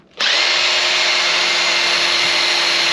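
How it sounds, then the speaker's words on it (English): Makita bullet blender mixing vegan pancake batter of coconut yogurt and banana, starting abruptly and whirring at a loud steady high pitch, close up and alone. "All right, the Makita bullet in action."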